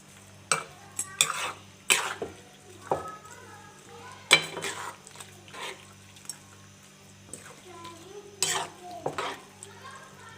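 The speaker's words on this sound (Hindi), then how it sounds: "ये देखिए मैं इसमें मारूंगी चम्मच ताकि ये अच्छे से मिक्सअप हो जाए।" A spoon stirs and scrapes through a keema matar mixture of minced meat and peas in a pot, giving several sharp, close scraping strokes at an uneven pace over a steady low hum.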